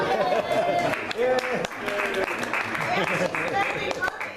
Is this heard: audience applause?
yes